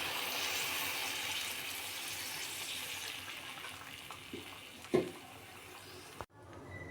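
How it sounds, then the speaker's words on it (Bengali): Water poured from a vessel into a cooking pan of prawns with Malabar spinach greens, a steady close splashing wash that runs for about six seconds and then cuts off abruptly, with a couple of light clinks near the end. "এখন দিয়ে দেব পরিমাণ মতো জল।"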